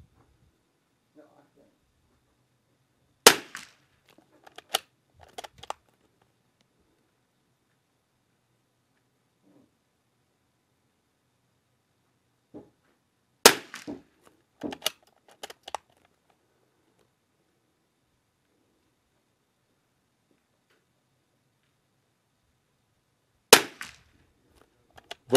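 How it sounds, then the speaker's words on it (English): LAX 22LR rimfire rounds are fired from a Christensen Arms Ranger 22 rifle: three sharp, loud cracks spaced about ten seconds apart, each followed by a quick cluster of softer mechanical clicks. "5 rounds for spotters. LAX ammunition out of the Christensen Arms Ranger 22."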